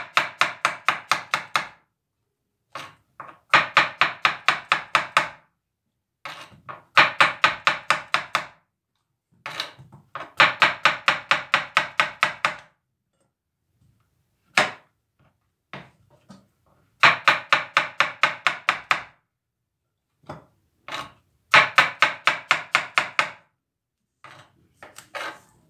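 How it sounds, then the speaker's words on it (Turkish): A knife chops mushrooms on a cutting board in quick bursts of sharp, even taps. Each burst has roughly eight to ten strokes, with silent pauses between bursts, all close and crisp with no voices. "Mantarımı doğradım."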